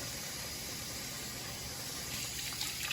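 Tap water runs steadily over fish being cut under the stream for a stew, a constant soft rush of water heard up close with no speech.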